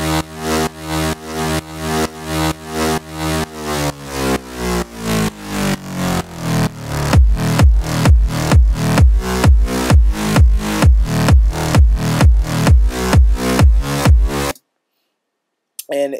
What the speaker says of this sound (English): I'm basically giving you that pumping effect if you're not familiar with the term sidechaining